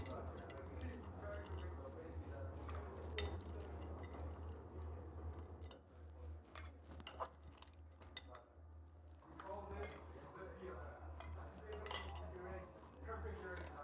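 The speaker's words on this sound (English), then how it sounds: "Add some ice cubes." Ice cubes clink and rattle as they are dropped into a metal cocktail shaker while preparing a drink, a string of small close clatters over a steady low hum, with talking present.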